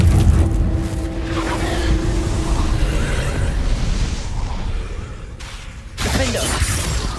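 Repeated explosive spell blasts from the Confringo curse in Hogwarts Legacy, booming and crackling loudly through a ruined setting, with a sharp burst near the end under battle noise and voices.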